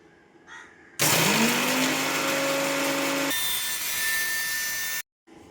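A mixer grinder whirs loudly as boiled eggshells are ground into calcium powder at home, a steady high motor roar running about four seconds with a pitch shift midway, then cutting off abruptly.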